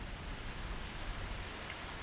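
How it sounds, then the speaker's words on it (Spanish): Heavy storm rain falling in high desert canyon country, a dense steady hiss of drops on surfaces, even and unbroken with no voices. "Poderosas tormentas en el elevado alto sueltan hasta 5 centímetros de lluvia en solo 2 horas."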